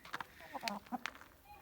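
Livny chickens cluck softly in short, irregular bursts, a few close birds murmuring over quiet background noise.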